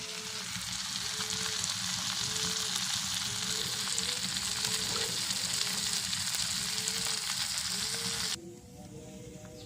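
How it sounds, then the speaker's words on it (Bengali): Steady, loud sizzling of onions frying in hot mustard oil in a wok, a dense crackle that holds throughout and drops abruptly quieter near the end. "আমরা কড়াই দিয়েছি সঙ্গে পেঁয়াজ তার সঙ্গে সরিষার তেল দিলাম"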